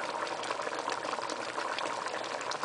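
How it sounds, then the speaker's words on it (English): A pot of catfish curry topped with okra simmers, giving a soft, steady bubbling hiss that stays quiet and even throughout, with no talk. "Here we have the pot bubbling nicely with the okra on top."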